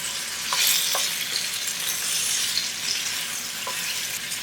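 Potatoes frying with onions, salt, crushed chili and turmeric in a pan, a loud steady sizzle with a few soft stirring scrapes, close and uninterrupted by speech.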